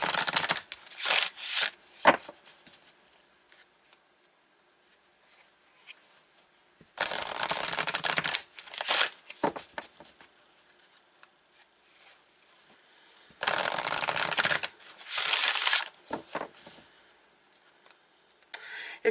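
Tarot cards riffled and shuffled in several bursts, crisp papery flutters separated by quiet pauses, close and clear with no talking.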